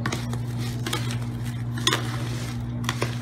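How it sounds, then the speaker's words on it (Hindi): A spoon scrapes and clinks against a pot while a sweet and spicy mango pickle mixture is stirred, with wet squishing in a short continuous run over a steady low hum. "मिक्स करना है ये, देखिए कितने अच्छे से मिक्स कर रहा हूँ पूरा मैं।"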